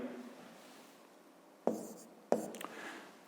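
Pen writing a fifth-grade maths solution on paper, a soft continuous scratch followed by two sharper strokes, close and quiet with no speech.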